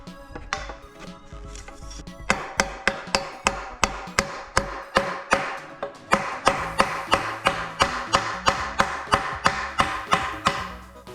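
A reptile enclosure panel is hammered into place with a long series of steady, evenly spaced blows, close and fairly loud, after a brief quieter rustle at the start, with no talk over it.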